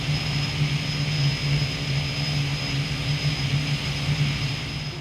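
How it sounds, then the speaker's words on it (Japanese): A simulated Dornier 228 turboprop engine starts up in Microsoft Flight Simulator 2024, with a steady high whine over a pulsing low drone that holds loud and continuous, no voices. "燃料が噴射され、エンジンがスタートします。"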